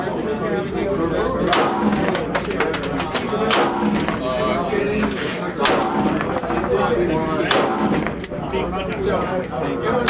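Gunfire on an outdoor range at SHOT Show 2022 range day, repeated sharp shots crackling at medium distance under near continuous conversation.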